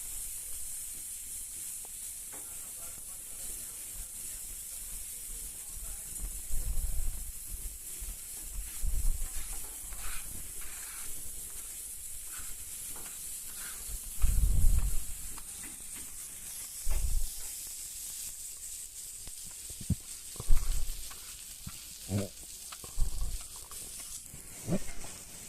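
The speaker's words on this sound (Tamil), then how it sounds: "ஆயில் நிறைய ஊற்றி நல்லா ஃப்ரை பண்ணிக்கலாம்" Brinjal fries in plenty of oil in a pan with a steady close hiss and sizzle. Occasional louder spatters and clinks sound over it and faint talk is heard at times.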